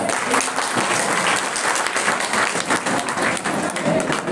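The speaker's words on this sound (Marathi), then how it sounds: "एकदा अलका दुक्कर यांच्यासाठी जोरदार टाळ्या." A literary-conference audience at the 2024 Shramik Sahitya Sammelan in Kharghar applauds guest Alka Dukkar. The clapping is dense, loud and sustained from start to finish, with no pause in the crowd's ovation.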